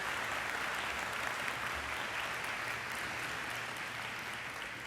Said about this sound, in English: Round of applause, class and transfer students.